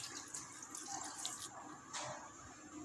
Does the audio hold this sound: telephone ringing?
no